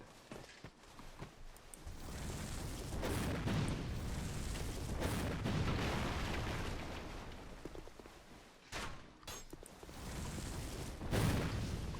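Fireballs and fire orbs from Dark Souls II: Scholar of the First Sin, heard as repeated whooshing bursts and booms with bright crackling hits and a few footsteps, steady and fairly loud with no talking.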